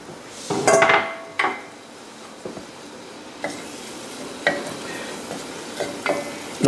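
Fresh garlic sizzles in olive oil in a pan with a soft, steady frying hiss. A few sharp clinks and stirring scrapes of a utensil against the pan break through it.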